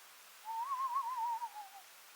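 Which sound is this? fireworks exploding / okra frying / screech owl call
screech owl call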